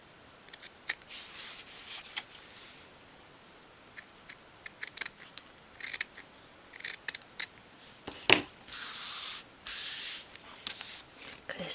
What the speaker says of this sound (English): I'm actually just going to trim a little bit off of each end of all three flaps there.